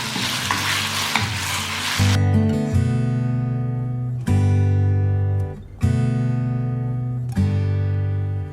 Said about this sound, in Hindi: चिकन को हम तब तक कुक करेंगे जब तक ये वाइट ना हो जाए।